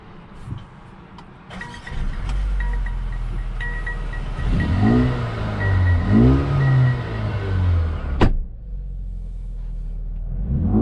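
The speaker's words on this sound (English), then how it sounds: "the exhaust sounds much better since this is an AMG" A 2021 Mercedes-AMG GLA 35's engine and exhaust rev up from idle, swelling into repeated rising and falling pulls of a close, throaty drone, then drop back sharply to a quiet idle.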